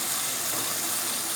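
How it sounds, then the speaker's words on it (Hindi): Water poured into an onion masala cooking in a pan for a dhaba-style pumpkin chana dal, a steady close gush of liquid lasting about a second before stopping abruptly. "इसके अंदर डालेंगे थोड़ा सा पानी, क्योंकि प्याज अच्छे तरीके से नरम हो जाए"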